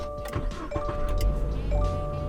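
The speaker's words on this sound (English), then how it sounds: "So I'm gonna start it and we can see what it sounds like." A car engine cranks and catches over a couple of seconds, with a low rumble settling into a steady idle and a few faint chimes and clicks from the cabin.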